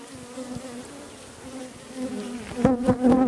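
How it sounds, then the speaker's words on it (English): Honey bees buzz steadily throughout an open-hive inspection, a close, droning hum that swells louder near the end as more bees lift around the comb. "And most of the bees will get out of the way."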